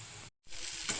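Potatoes with ginger, salt, turmeric and tomato sizzle in a pan, a close, steady frying hiss that cuts out briefly in the middle before resuming.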